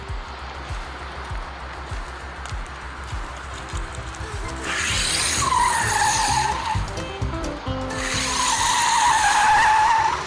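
A Kia EV6 GT electric car drifts on a track, its tires breaking into two long, loud squeals that rise and fall after a stretch of low road rumble, with no talk.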